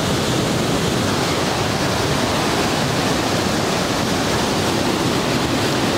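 A mountain stream in Shigar Valley near Skardu rushes loudly and close by, a steady, unbroken roar of water with no talk.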